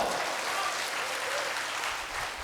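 Audience clapping in a lecture hall, a dense, sustained round of applause from many hands, steady and fairly close, with no talk over it.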